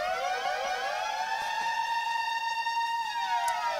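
A loud electronic siren effect from Serato DJ software: stacked harmonic tones hold a steady pitch, then glide downward near the end, sounding alone with no talk.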